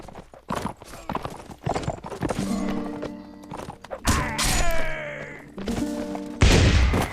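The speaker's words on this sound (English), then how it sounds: "So there goes the horse. Yeah, the horse had no chance there." Horse hooves clip-clop repeatedly through a Mount and Blade With Fire and Sword battle, loud and close, with a horse whinny rising amid crashing combat noise.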